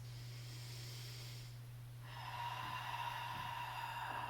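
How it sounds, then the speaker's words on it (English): Slow, deep yoga breathing during a beginner core workout, soft drawn-out inhales and exhales heard faintly and close over a steady low hum, with no talking. "Deep inhales, long exhales."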